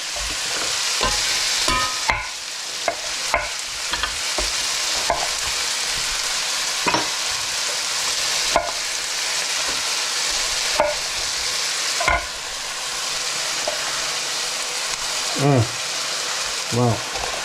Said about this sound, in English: Now I can add my onions. That's a lot of oil. And I can re-add the bacon as well.